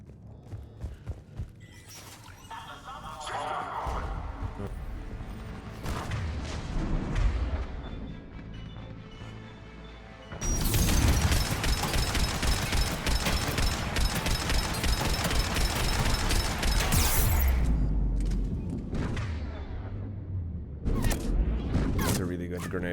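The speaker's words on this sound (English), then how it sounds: "That's a really good grenade placement." Heavy grenade explosions and gunfire in Mass Effect 3 combat at Grissom Academy on Insanity difficulty, loud booming bursts from about ten seconds on, layered over game music and a speaking voice.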